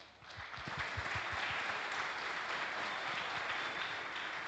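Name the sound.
audience applause for panelists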